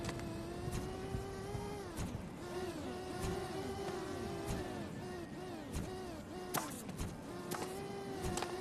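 Toy RC cars in the Yeeps video game hum with a thin, wavering electric motor whine that rises and falls in pitch, broken by sharp clicks and bumps, fairly quiet overall.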